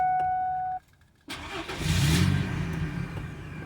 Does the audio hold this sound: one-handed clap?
no